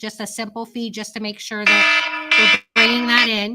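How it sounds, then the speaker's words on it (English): A phone alarm reminder goes off in a room, a loud sustained electronic beeping tone sounding in bursts over and after a woman's speech. "That was my alarm."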